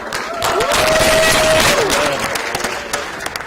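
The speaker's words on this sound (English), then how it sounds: "Guys, make some more noise for Trevor" Loud crowd applause and cheering swelling and holding steady, with a sustained whistle or shout rising above the dense clapping.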